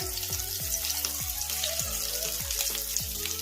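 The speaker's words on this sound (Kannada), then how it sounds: "ಈಗ ಹಾಗಲಕಾಯಿನ ಒಂದೊಂದು ಎಣ್ಣೆಗೆ ಬಿಡೋಣ ಸಾಕು ಇಷ್ಟೇ ಎಣ್ಣೆ" Bitter gourds frying in a small amount of oil over low flame, a steady close crackling sizzle with rapid regular popping bursts throughout.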